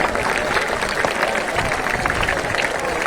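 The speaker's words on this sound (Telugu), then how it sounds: "ముఖ్యంగా ఓంప్రకాష్ చేసిన ఎఫర్ట్ మీరందరూ చప్పట్లు కొట్టి ఎంకరేజ్ చేయండి" An audience at an Engineering Day event at JNTU university applauds steadily and densely, a continuous wash of clapping from many hands without a break.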